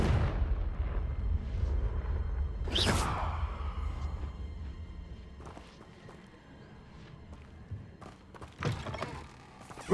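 A Confringo fire spell in Hogwarts Legacy erupts with a loud whooshing blast, rumbling low booms before and after, and a second, smaller burst near the end amid fainter battle thuds.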